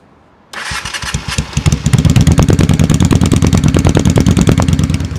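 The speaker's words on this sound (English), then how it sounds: "Jake, fire it up. I'll make sure it's focused in on the bike" A motorcycle engine cranks and fires after a quiet moment, then settles into a steady, close, understated burbly idle with an even rhythmic exhaust pulse and no rattles.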